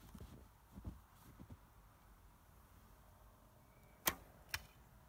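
An arrow shot from a 1957 Bear Polar bow: a faint, distant ambience with a sharp release snap, then a second quick crack half a second later, as the shot ends.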